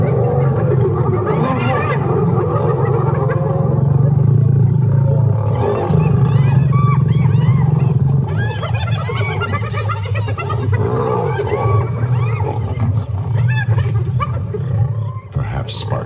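Lions and hyenas clash in a wild fight on the southern plains, with loud, continuous roars, growls and snarls overlapping, then chaotic whoops, yelps and cackles; close and intense throughout, with no human talk.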